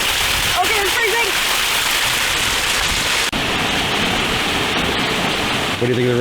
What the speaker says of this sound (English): What do you think of the roadside waterfalls?